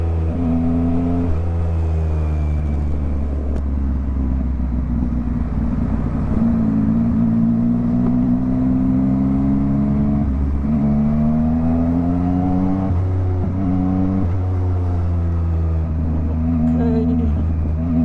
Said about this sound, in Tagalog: Ganito dito, traffic, maraming sasakyan kumpara dun sa kabila